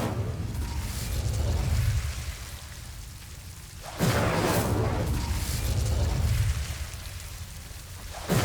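Incendio fire spell cast in the Hogwarts Legacy video game: two loud, roaring whooshes of flame, one at the start and another midway, each trailing off into a crackling, rain-like hiss with no talking.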